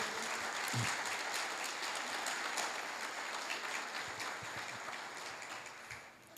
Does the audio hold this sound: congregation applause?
yes